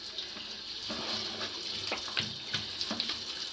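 Greens are rinsed under a running kitchen tap, the water splashing steadily with intermittent sloshing bursts as bunches are moved through the stream, close and fairly quiet, with no speech.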